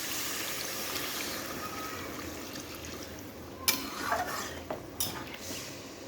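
Water pours and trickles into a pan of fish and eggplant curry, a soft steady wash followed by a few sharp clinks of a utensil against the pan.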